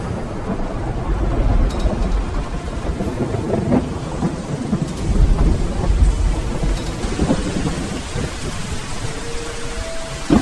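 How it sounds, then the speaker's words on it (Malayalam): Heavy rain pours steadily while thunder rumbles low and rolls through repeatedly, a dense, loud storm with no voices. "നല്ല മഴ വരുന്നുണ്ട്"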